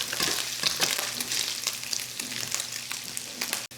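Bacon sizzles in a coated steel pan with a close, crackling fry and bursts of spatter, broken by occasional scraping strokes of a metal utensil and a sharp clank near the end.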